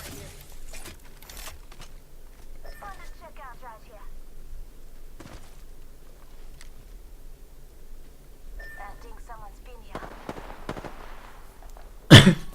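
Bursts of automatic weapon fire in the battle royale shooter Apex Legends, sharp repeated volleys at mid distance with scattered single shots, a loud burst near the end and steady game ambience underneath.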